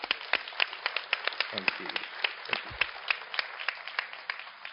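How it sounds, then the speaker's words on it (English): Studio audience at a talk show clapping for the guests, a moderate patter of individual claps with a voice briefly speaking over it. "Give my guests a round of applause"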